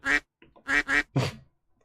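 Duck quack sound effect from a soundboard button, four sharp nasal quacks, loud and close, with a short gap after the first and the last slightly longer, no talking.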